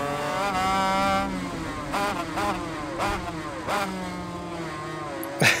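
A 500cc two-stroke racing motorcycle in the MotoGP 21 video game screams loudly and then clicks through several quick upshifts. Each gear change cuts the pitch for a moment before the engine rises again.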